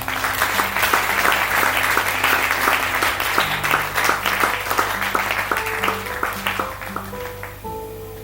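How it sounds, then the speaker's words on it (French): Church congregation at a Sunday worship service applauding together, dense sustained clapping that carries on over a steady tonal music backdrop and slowly fades toward the end. "Acclame Jésus"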